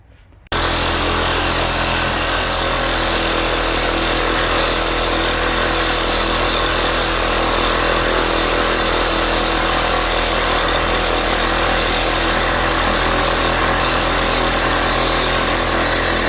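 A reciprocating saw cutting through steel pipe, starting abruptly after a brief quiet moment and then running as a loud, continuous, harsh buzzing grind for the rest of the clip, close up and uninterrupted.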